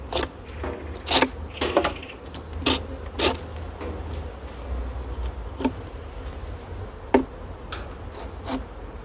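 Honeybees buzz around an open hive while a colony is moved from a nucleus box into a full hive, a soft steady hum broken by a few sharp clicks and taps from the frames.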